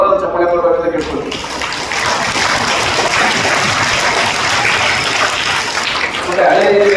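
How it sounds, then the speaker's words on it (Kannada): Loud, sustained applause from an audience at a school event on a campus in Attibele, a dense wash of clapping that fills the whole stretch, with voices mixed in. "ದಯವಿಟ್ಟು ಅವ್ರು ಜೋರಾದ ಚಪ್ಪಾಳೆ ಕೊಡ್ಬೇಕಂತ ಕೇಳ್ಕೊಳ್ತೀವಿ"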